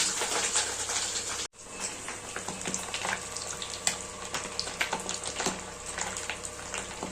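Fish roe sizzles and spits in hot oil, a steady crackling hiss with scattered sharp pops, close by, briefly cut off once near the start.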